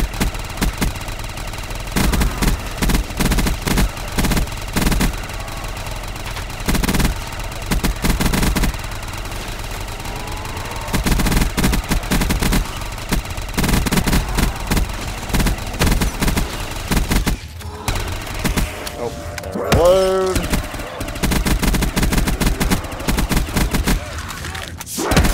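Rapid machine gun fire from a magazine dump in Black Ops 3 Zombies on a custom map, sustained bursts of fast shots for most of the stretch, loud and close, with a brief mechanical sweep near the end.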